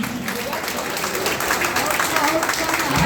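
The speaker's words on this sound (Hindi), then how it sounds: "इनके लिए जोरदार तालियां।" Applause from an audience at a teachers' award ceremony in Rajpur, Rohtas, Bihar, a steady wash of clapping running the whole stretch with a crowd murmur and voices mixed in.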